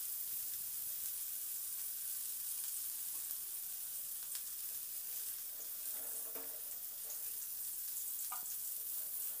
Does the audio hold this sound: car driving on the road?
no